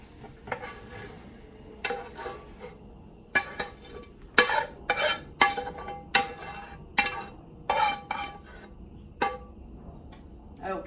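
Pieces of cooked chicken for fajita pasta are lifted from a garlic-scented pan into a bowl, making a series of sharp metal-on-metal scrapes and clinks of a utensil at irregular intervals over a faint background sizzle.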